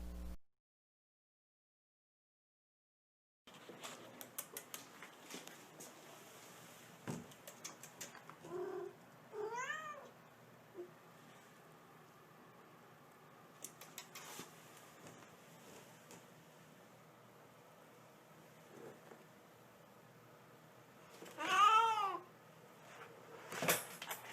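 A cat sick with rabies or distemper lets out a few drawn-out, wavering meows and yowls, separated by long quiet stretches, one louder cry near the end.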